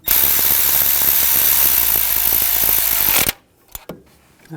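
A ratchet snugs down the dipstick tube bolt on a 2014-2018 GMC Sierra 1500 with a 5.3L V8, giving a loud, rapid, continuous clicking for about three seconds before stopping, followed by a couple of faint clicks.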